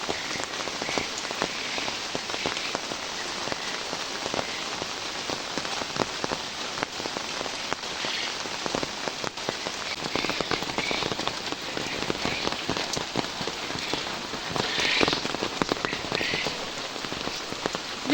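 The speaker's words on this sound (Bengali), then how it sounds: "বৃষ্টির মধ্যে কই যাই" Rain falls steadily outdoors, a dense patter of drops on surfaces with faint frog croaks in the background and no talking.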